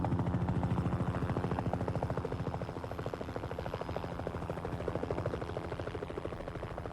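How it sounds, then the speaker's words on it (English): Helicopters drop fire-retardant chemicals on a burning forest in Yellowstone, a steady rapid rotor chop thrumming continuously and fairly loud throughout. "While choppers doused the trees with fire-retarding chemicals"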